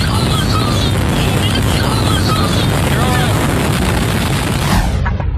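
Tornado wind roars loud and unbroken across a Kansas highway overpass, a dense rumbling rush with buffeting gusts that cuts off abruptly at the end.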